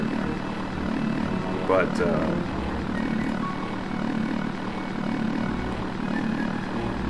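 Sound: helicopter flying in the video game Body Harvest

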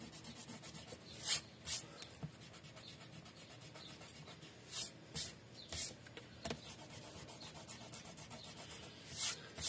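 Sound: eraser rubbing on paper for scrapbook album

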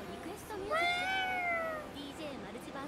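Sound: cat yokai meowing in video game Ghostwire Tokyo

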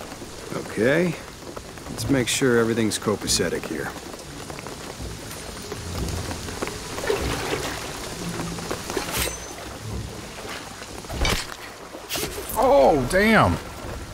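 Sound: rain in the video game Shadow of the Tomb Raider

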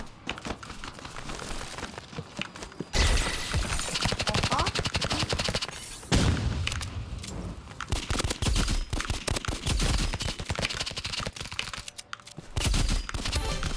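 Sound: pistol gunfire in a shooter video game

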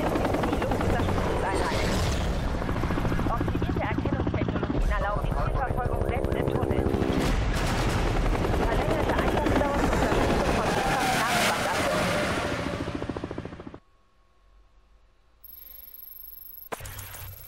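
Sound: police helicopter in the video game Need for Speed Hot Pursuit Remastered

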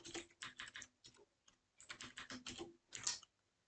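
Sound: typing code on a computer keyboard

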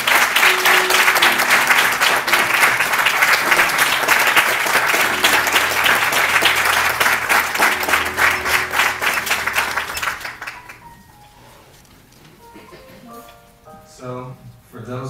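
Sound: applause for young men at church service

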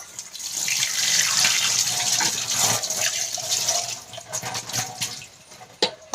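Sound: water running while washing clothes

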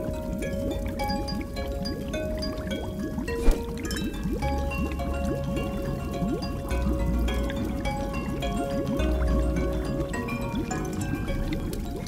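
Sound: water boiling in a laboratory vessel

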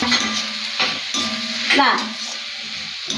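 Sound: stirring fish masala with turmeric and chili powder in a pan

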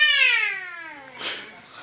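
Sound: child imitating a cat's meow

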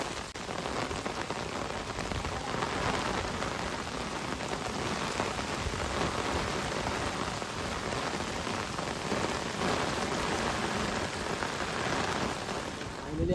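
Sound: rain falling on a paddy field

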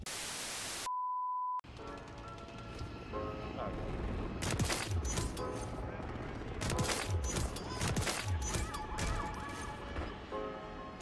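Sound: shotgun firing in the video game Call of Duty: Modern Warfare 3

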